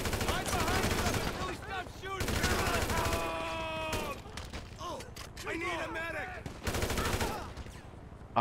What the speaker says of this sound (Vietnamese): Bắn hết tụi bay luôn.